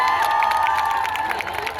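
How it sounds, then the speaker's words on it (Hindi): A crowd at the Governor House in Sindh erupts in loud cheering, shouting and clapping for the Chinese consul general, a dense, close roar of many voices with whoops rising above it. "जोरदार तालियां बजाएं"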